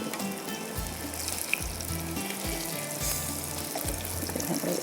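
Garlic fried rice sizzling in a pan with oil, a continuous hiss of frying with occasional bubbling and stirring clanks, close and steady with no talking.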